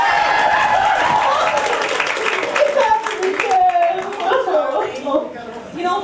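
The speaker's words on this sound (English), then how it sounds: "Cheer anyway!" An audience at a dinner theater circus-themed murder mystery show claps and cheers loudly over speech, with a burst of laughter and voices mingling in the applause.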